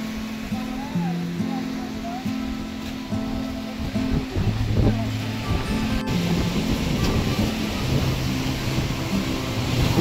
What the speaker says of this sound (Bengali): সমুদ্রের ভালোই ঢেউ আছে।